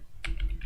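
A short burst of three quick keystrokes on a computer keyboard while JavaScript code is typed, fairly close and clear over a low background rumble.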